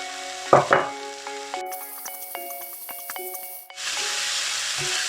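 Spring roll filling of sliced shiitake mushrooms and bean sprouts stir-frying dry in a pan, with a couple of sharp clatters early on, then a steady close sizzle and hiss broken by scraping stirs.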